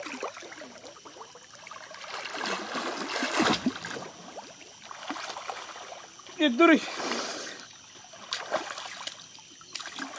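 People bathing and diving in a pond in summer make water splash and trickle, with soft swishes and a few louder splashes alongside voices.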